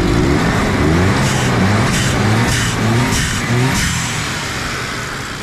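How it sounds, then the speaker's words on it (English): Suzuki Jimny with a 660cc three-cylinder single overhead cam engine revving in repeated bursts, each rise followed by a short hissing release from the blow-off valve, loud and close, with no talking. "Let's hear that blow valve."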